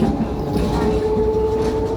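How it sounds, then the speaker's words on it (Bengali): Steady rumble inside a moving tram in Italy, with a sustained tonal whine and continuous rolling noise throughout, no talk. "এখন আমরা ট্রামে উঠেছি"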